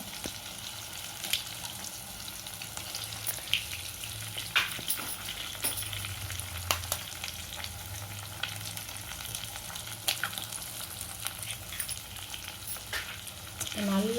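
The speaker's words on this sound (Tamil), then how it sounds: "முட்டையை உடச்சி ஊற்றிக்கலாம் இப்போ வந்து சிம்மையாக வச்சுக்கோங்க" A cracked egg fries in a pan on low heat for egg fried rice, a soft continuous sizzle with scattered crackles and occasional clicks, quiet and close, with no one speaking.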